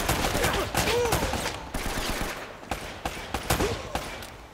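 Rapid bursts of gunfire from the video game Uncharted: Drake's Fortune, sharp repeated shots in an uneven rhythm throughout, loud and close amid game combat noise.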